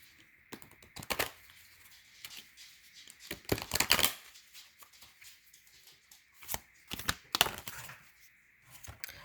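A deck of angel cards being shuffled in several bursts of riffling, crisp and close, with short pauses between each flurry.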